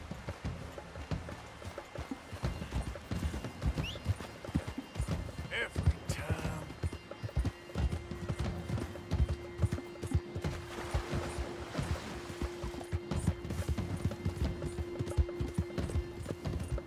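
Horse hooves clip-clop steadily while riding in Red Dead Redemption 2, a rhythmic trot of close, sharp hoofbeats on ground with ambient outdoor noise and a brief whinny, continuing throughout.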